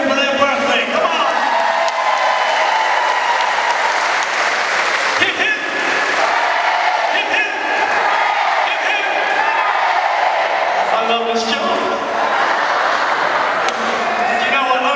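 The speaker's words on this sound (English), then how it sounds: "Everyone, just have a round of applause to every person in here for their birthday." Large crowd at an Elvis Week 2019 event applauding and cheering for a birthday round, a dense sustained roar of clapping and voices filling the room, loud and close, with shouting mixed in throughout.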